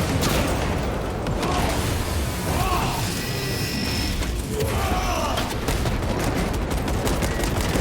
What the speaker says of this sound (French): J'envoie une grenade crack.